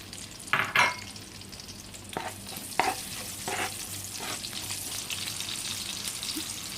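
Onion hits hot meat drippings in a pan for ginisang munggo, with a loud initial sizzle and a few stirring scrapes, then a steady frying hiss.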